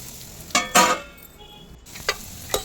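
Bitter gourd slices fry in oil as they are turned in a pan, with a soft continuous sizzle broken by a few sharp scraping stirs and spatula clatters.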